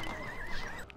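A horse neighs in the medieval castle strategy game Stronghold 2, a loud, close whinny with a wavering pitch that fills the whole second over dense battle noise, with no talking.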